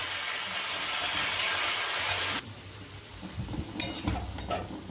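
Fried prawns tipped into a pan of Bengali jackfruit curry with jackfruit water, setting off a loud, steady sizzle that drops sharply midway, followed by clattering stirs and softer frying.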